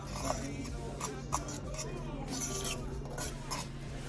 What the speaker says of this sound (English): we're gonna go ahead and stir that all together